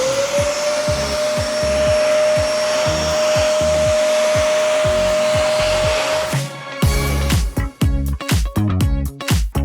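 A vacuum cleaner whirs steadily with a high whine while sucking sand from the flood-damaged interior of a Bentley Continental GTC, then the nozzle bumps and scrapes in rapid irregular knocks as the motor keeps running.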